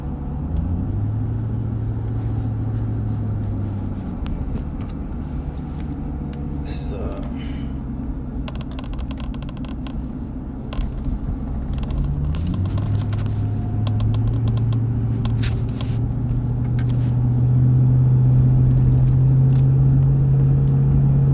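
Steady low road rumble and engine drone from inside a moving car, rising slightly in pitch and loudness toward the end, with a few faint clicks over the continuous hum.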